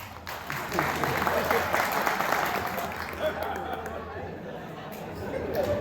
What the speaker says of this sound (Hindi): जितने सो रहे हैं एक बार ताली बजाइए।